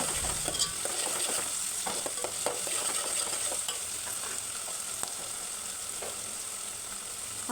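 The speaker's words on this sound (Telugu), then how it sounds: "ఆనియన్స్ అయితే మంచిగా బ్రౌనిష్ కలర్ వచ్చేంత వరకు వేయించుకుంటే టేస్ట్ బాగుంటుందండి" Onions and curry leaves sizzle in hot oil while a spatula stirs and scrapes the pan in irregular strokes. The frying is close and steady, with no talking.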